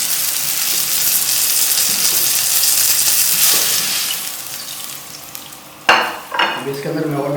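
Chicken pieces sizzle loudly and steadily in a frying pan, browned and nearly done, then the sizzle drops briefly before sharp clatters and scraping of the pieces being lifted out near the end.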